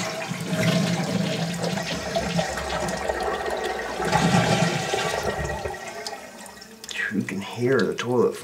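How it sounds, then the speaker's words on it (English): A household toilet flushes with a loud rushing, gurgling swirl that fades into refilling water, on a toilet whose wax ring is leaking at the flange; someone talks briefly near the end. "Hear the toilet flush on the side where the wax ring's leaking."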